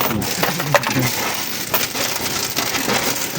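Coins drop and clatter in a scattered series of bright metallic clinks over a steady background.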